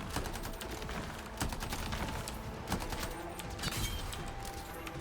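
Rapid gunfire bursts and sharp blasts from the video game Anthem, including a primer grenade, crackle in a dense, continuous barrage with brief louder spikes, no voices over it.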